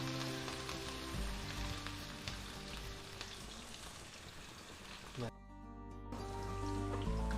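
Chopped garlic and spring onion whites sauté in a pan for homemade American chop suey, a dense continuous sizzle that runs throughout with a brief quieter dip and a low steady hum underneath.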